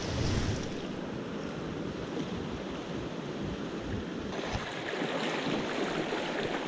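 A small fishing stream flows in a constant broad rush, close to the microphone with some wind buffeting, steady throughout with a slightly brighter splashing stretch near the end.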